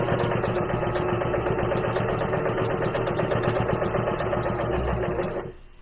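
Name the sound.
sewing machine top stitching gift bag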